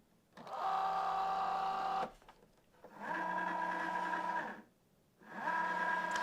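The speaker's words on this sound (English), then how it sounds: "let's open the machine, load this in" A Cricut Joy Xtra cutting machine loads a card mat with steady motorized whirring in three runs of about two seconds each, close up and separated by brief pauses.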